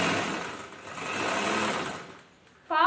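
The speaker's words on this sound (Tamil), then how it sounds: "இனிமேல் இந்த ட்ராயிங் வழியாக தைச்சிக்கலாம். ஸ்ட்ராங் தையல் போடுறோம்." A sewing machine stitching a chudithar runs in a steady, close whir. It fades near the end, then a brief sharper mechanical burst follows.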